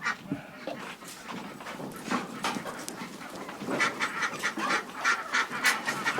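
Farm ducks quacking in a barnyard, a run of nasal calls that grows busier and louder toward the end, with dogs and goats nearby.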